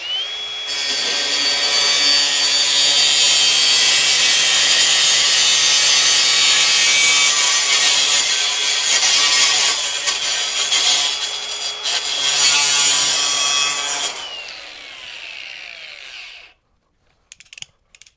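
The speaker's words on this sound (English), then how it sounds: "the grinder we're using is the Flex 24-volt brushless." Flex 24-volt brushless grinder with a diamond metal cutting wheel slicing through steel, a loud continuous high-pitched whine and grinding rasp holding steady for about fourteen seconds before spinning down and stopping, no talk.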